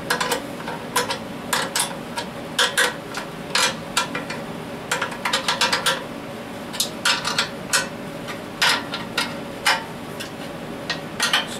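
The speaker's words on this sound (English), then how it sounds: "Some of these you can get into with this wrench, and other ones you can't." A wrench works the bolts on the pulleys of a house air compressor. It gives sharp, irregular metallic clicks and taps, some single and some in quick clusters, close by over a steady low background hum.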